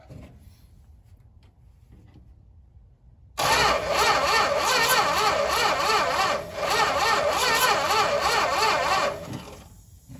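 A 1971 Dodge Charger Super Bee cranks hard over on its starter after a few seconds of near quiet, whirring loud and rhythmic for about six seconds with a brief dip partway through, then stops without the engine catching.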